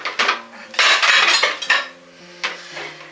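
Dishes and cutlery clatter and clink in a kitchen drying rack beside a wall outlet, several sharp close knocks and rattles in uneven bursts.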